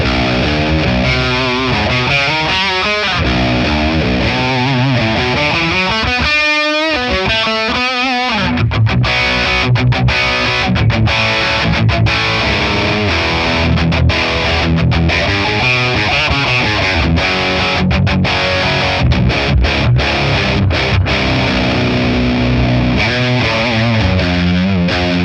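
High-gain Friedman amp capture played on a 7-string electric guitar with no reverb, thick distorted chugging riffs and sustained chords, loud and continuous for about twenty-five seconds without talk.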